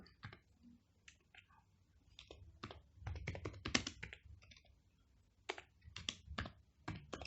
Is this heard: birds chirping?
no